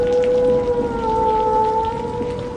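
Steady continuous rain falling through a rural village night, a dense even hiss of drops on surfaces with a faint tonal hum layered beneath, holding at the same loudness throughout.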